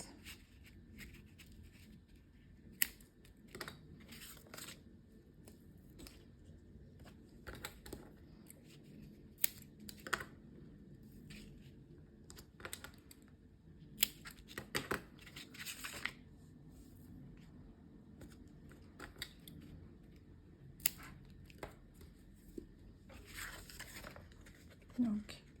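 Strips of adhesive tape are pulled and pressed onto the outside of a cardboard window box during assembly, giving scattered close crinkles, rips and taps at an uneven pace over a quiet background.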